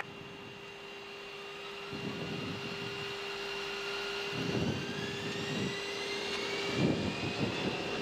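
A Piper Aztec rolls for takeoff from St Maarten in Microsoft Flight Simulator 2020, a steady engine drone with a sustained tone and rising whine, while several muffled thumps or surges swell periodically; no speech.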